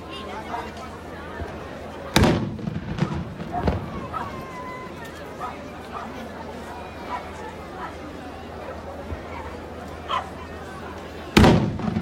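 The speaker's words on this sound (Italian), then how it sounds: "mentre sparano i cannoni a salve del castello aragonese" Blank salute cannons firing from the Aragonese castle in Taranto: two sharp, loud booms several seconds apart, with crowd chatter and a person talking between them.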